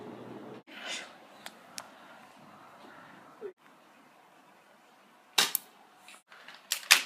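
BB gun shots snap out as sharp, isolated cracks, a few scattered early and a louder cluster near the end, over a quiet background.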